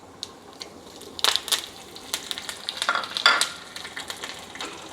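Dried red chilli and curry leaves drop into hot mustard-seed tempering for coconut chutney, crackling and spitting in quick, irregular pops over a soft background sizzle.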